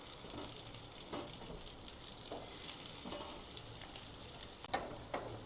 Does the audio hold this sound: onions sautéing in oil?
yes